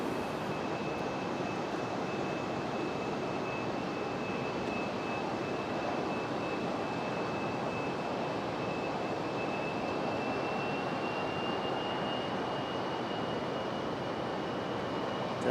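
Delta Air Lines Airbus A321 airliner at Raleigh-Durham airport, a loud sustained broadband engine roar with a steady high whine running throughout, close and continuous with no voices.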